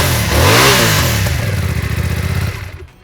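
A motorcycle engine starts up close by, sweeping up in a quick rev before settling into a steady, throbbing idle, then cutting off near the end.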